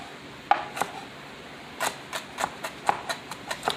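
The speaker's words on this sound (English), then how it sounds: "you want to just chop these up small as well" Knife chopping jalapeno peppers on a board while prepping hushpuppies, a series of sharp close taps, one firm chop followed by irregular lighter strikes and a quick run of even cuts.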